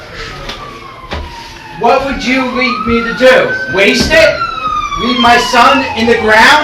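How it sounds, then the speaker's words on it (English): A wailing ambulance siren sweeps up and down as it passes close by, loud and rising, while someone speaks over it. "That's the ambulance."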